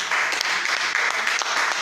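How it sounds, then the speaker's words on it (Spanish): A church congregation applauds loudly during a Spanish-language service, a dense, sustained burst of clapping from many people with no talking over it. "Den un aplauso fuerte a Dios."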